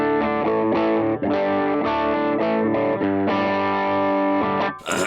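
An electric guitar plays through a UAFX amp pedal set to its Greenback speaker tone, with sustained distorted chords and notes changing every second or so, loud and continuous, with a sharp burst at the very end and no voices.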